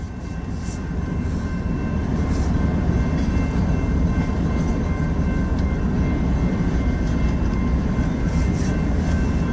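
A long BNSF freight train rolls east into the yard on the transcon line at Lincoln, Nebraska, a steady loud rumble of wagons with wheel and rail noise holding for the whole stretch, no voices over it.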